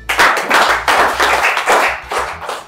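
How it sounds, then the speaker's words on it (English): A crowd breaks into sustained, loud clapping during a village classroom comedy scene, the dense applause rising and falling in waves across the whole stretch with no speech over it. "Clap for her."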